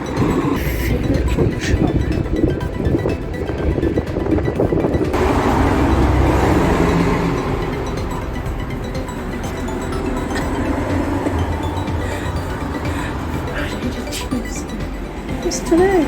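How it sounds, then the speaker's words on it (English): A train rumbles past nearby at Featherston, New Zealand, with rattling, clanking wheels, loud and steady for the whole stretch, with a brief spoken phrase over it. "Oh, it's a train. Why is there a train?"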